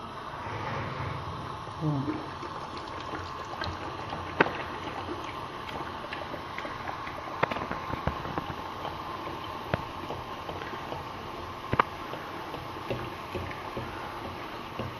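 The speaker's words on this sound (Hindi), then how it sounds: "ऑयल फुल गर्म हो चुका है। अब हम इसमें भटूरा डालेंगे।" Bhatura dough sizzling and bubbling in fully heated cooking oil, a steady soft frying hiss with occasional pops and crackles, close and continuous without talk.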